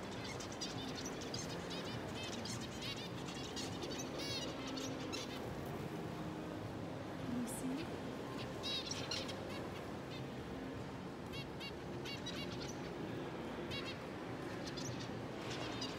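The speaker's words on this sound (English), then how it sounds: "Listen, can you hear them? They're little birds." Small finches chirp in a small aviary, quick high twittering calls scattered steadily through the whole stretch at moderate distance, over a constant background hum.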